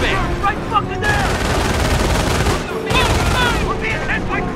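Company of Heroes battle audio: dense, loud bursts of rapid gunfire and booming explosions follow one another without pause.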